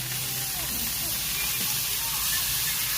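Tomatoes hit a hot pan while cooking tomato khajuri khatta, a steady sizzling hiss with some sloshing, close up and continuous for a few seconds.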